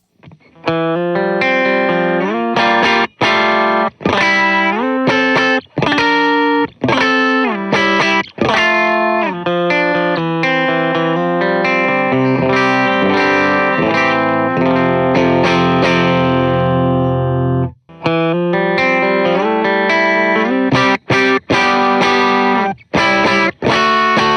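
Heavily distorted electric guitar plays loud, sustained chords and riffs with brief pauses, thick and saturated throughout.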